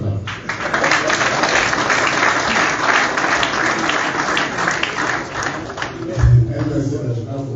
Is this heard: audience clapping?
yes